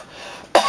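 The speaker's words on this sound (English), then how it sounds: "battling a little cough here" A single sharp cough bursts out after a quiet stretch, loud and close, with a short second push at the end.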